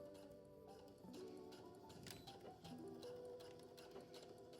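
A sewing machine stitches belt loops onto wide-leg trousers with a quarter-inch seam, giving a steady, rapid mechanical ticking that sits quietly beneath continuous background music.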